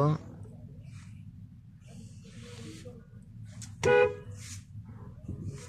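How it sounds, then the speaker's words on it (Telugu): Kuwait City traffic jam with car horns, one short blast at the start and another near the middle, under someone talking close by and steady road noise. "ఎంత హార్న్లు కొట్టినా కూడా వేస్ట్."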